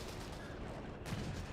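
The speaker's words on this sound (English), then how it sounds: "I have to watch the artillery barrage come down" Artillery barrage in the Company of Heroes 3 video game, a dense, continuous rumble of explosions and gunfire with a heavier burst of blasts near the end, held at a low, steady level.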